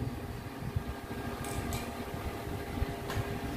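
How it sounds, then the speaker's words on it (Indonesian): Cooling fan of a 5000-watt solar inverter system spinning after switching on at 25 degrees, a steady low mechanical whir with broadband hiss, fairly close and constant, with a couple of faint clicks. "Oke, kipas on karena suhu sudah menyentuh 25"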